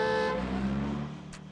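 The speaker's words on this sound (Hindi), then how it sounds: "गाड़ी आ रही है, हॉर्न बजाओ।" A short, loud car horn honk from a South Indian action film dubbed in Hindi, lasting about a third of a second, gives way to a steady low vehicle rumble.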